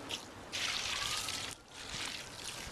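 A steady stream of water pours with a trickling hiss into a biochar and compost mixture, pausing briefly midway, then continuing at a similar quiet level.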